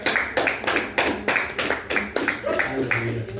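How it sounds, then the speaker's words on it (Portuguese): A church congregation claps together during a Thursday worship service, with steady rhythmic hand claps repeating about every half second over a low murmur of voices. "Palmas para o Senhor Jesus"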